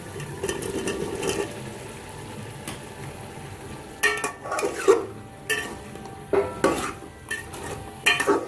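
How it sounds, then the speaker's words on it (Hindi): A spoon stirs potatoes and fenugreek leaves in a pan, scraping and clinking against the metal in repeated uneven strokes over a faint sizzle. "इसको अच्छी तरीके से आलू और मेथी दोनों को मिक्स कर दें"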